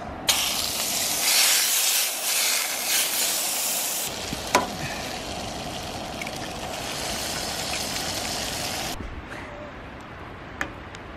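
Eggs sizzle and fry in a pan during a truck camping breakfast, a steady broad hiss with occasional sharp pops and scraping clicks, close and continuous, fading quieter near the end.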